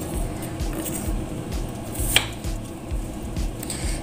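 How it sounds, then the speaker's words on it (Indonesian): Knife slicing washed potatoes into large chunks on a board for a coconut-milk curry, giving a soft steady run of low chopping thuds with one sharper click, close and moderately loud, with no talking. "ini kentangnya kita iris besar-besar seperti ini"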